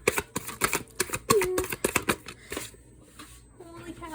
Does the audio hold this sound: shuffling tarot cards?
yes